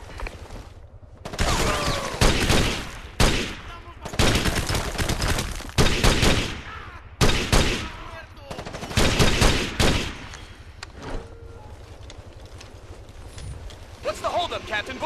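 Bursts of automatic gunfire in the Ghost Recon Advanced Warfighter video game, loud close volleys in rapid clusters separated by short lulls, with shouted voices mixed in between.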